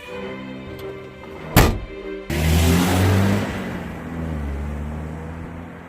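A 1975 Opel Manta SR: a single solid thunk like a door closing, then the engine catches and settles into a steady mid-pitched running hum as the car sets off, gradually easing in loudness.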